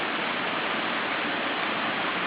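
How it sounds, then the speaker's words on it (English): Steady, even rain hiss from a morning shower at Bali Hai, a dense unbroken wash of noise recorded from a deck, fairly close and without any voices. "intermittent rain showers"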